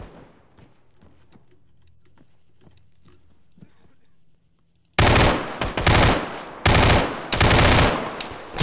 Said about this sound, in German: Schüsse auf uns. Von unten, vom Wasser.